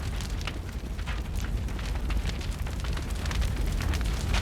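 A tank blows up in Mass Effect, a dense, rumbling blast that roars loud and steady for several seconds with crackling debris throughout, without any talking over it.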